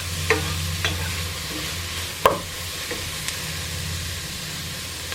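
Minestrone soup ingredients with garlic stirred in a pot, a steady low scraping and bubbling with a few sharp utensil knocks against the side, one louder clank near the middle, heard close with no talk.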